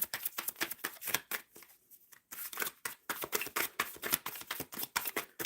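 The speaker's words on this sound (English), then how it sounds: "Shuffling for Aaliyah Lee" Tarot cards are shuffled in quick, rhythmic riffles and slides, crisp and close, with a brief pause before the shuffling resumes.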